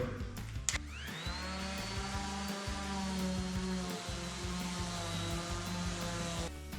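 A power sander with 60-grit paper whines steadily with a rising pitch after it starts, grinding continuously on a hardwood floor with occasional knocks; no talking.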